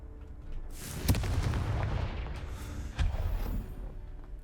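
A Confringo blasting spell explodes in the Hogwarts Legacy video game, a sharp booming blast followed by a rumbling, crackling roll and a second thud, loud and close with no talk.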